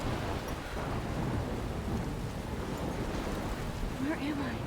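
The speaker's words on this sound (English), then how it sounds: "Alright, so it's storming a bit. You probably don't want to be out in the rain" Steady heavy rain and a low rolling thunderstorm fill the scene in the video game Life is Strange, a dense continuous wash of downpour with deep rumbling underneath.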